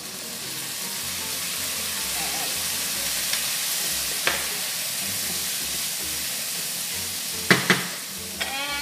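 Fried rice with bacon, vegetables and soy sauce sizzling steadily in a pan, a continuous close hiss with occasional stirring clinks and scrapes near the end.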